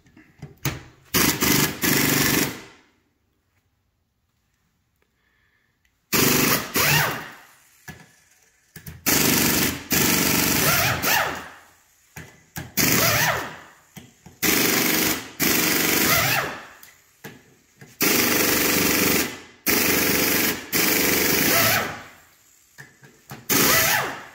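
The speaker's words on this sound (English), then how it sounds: "We'll use an air tool to pop out the Torx and the Allen" Bursts of an air impact tool loosening Torx and Allen bolts, a series of loud rattling hammering runs of a second or two each with short pauses between, one longer gap near the start, no talk.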